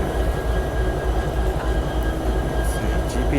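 A Buckingham Branch GP38-2 diesel locomotive, a former high-hood unit that was chopped, hauls an NS train through Charlottesville, Virginia, with a loud, close, steady rumble of engine and rolling wheels and no talking.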